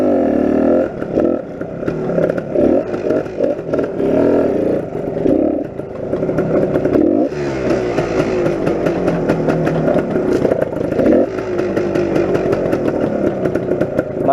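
A classic Suzuki TS250 motorcycle engine runs rough, a loud, close, steady two-stroke drone with uneven sputtering and clattering throughout, no voices over it.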